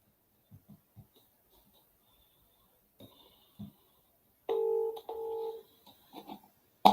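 Several short telephone keypad beeps while dialing a number, with a few soft clicks before them, then two sustained dual-tone beeps and a sharp click at the end, all heard close and without talk.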